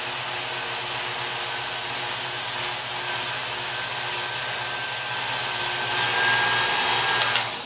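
A knife is ground on a Work Sharp Ken Onion Edition belt sharpener, giving a loud, steady motor whir and an abrasive hiss that holds without pause.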